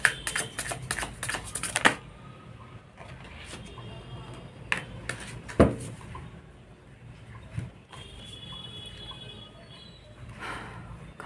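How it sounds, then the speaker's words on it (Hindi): Tarot cards shuffle and knock together in quick, crisp clattering bursts, loud near the start and then scattered taps, with a voice talking in between. "कार्ड्स बहुत टकरा रहे हैं भाई,"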